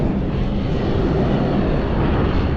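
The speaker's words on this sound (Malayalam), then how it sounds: "അവിടുന്ന് അടുത്തത് വരുന്നുണ്ട് ടേക്ക് ഓഫ് ചെയ്യാൻ വേണ്ടി." An airplane, something like a private jet, rolls out to take off nearby, giving a loud, steady, broadband engine roar that fills the whole stretch with no talk.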